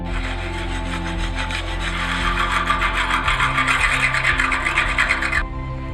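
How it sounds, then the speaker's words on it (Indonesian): A hacksaw rasps back and forth through iron pipe in a steady rhythm of quick strokes, close up, then stops abruptly. "melubangi pipa besinya menggunakan gergaji besi"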